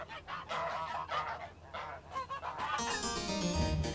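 Geese honk repeatedly on a Tudor-period farm, loud, close calls in an irregular run that gives way to a denser, busier stretch of farmyard noise near the end.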